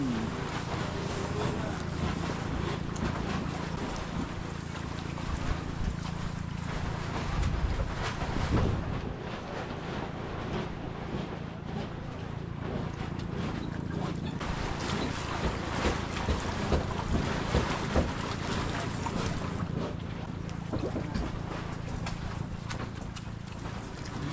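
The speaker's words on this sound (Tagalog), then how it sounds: "Lumakas po yung ating hangin ngayon." Steady wind roaring and buffeting outdoors for a long stretch, with gusts and a low rumble throughout, under intermittent voices.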